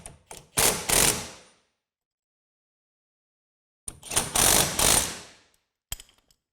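Wrench work on the hardware of a Blue Ox TrackPro Airstream hitch: two short bursts of close mechanical clicking and ratcheting, separated by a long silent pause and followed by a faint click.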